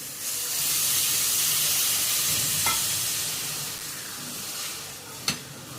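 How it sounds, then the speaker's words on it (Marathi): Water poured into a sizzling tempering with brinjal, salt and chilli sets off a loud, broad steaming hiss that slowly fades, broken by a couple of sharp clinks of a stirring spoon near the end. "त्याच्यात थोडंसं पाणी घालायचं."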